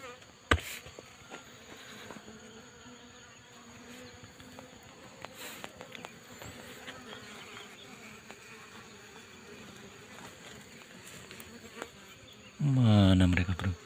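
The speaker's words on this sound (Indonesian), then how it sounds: "Pelan-pelan saja, bro, agar si lebah tidak agresif." Soft buzzing of Asian honey bees hums through a quiet outdoor space with scattered faint knocks, then a loud, close burst of buzzing near the end.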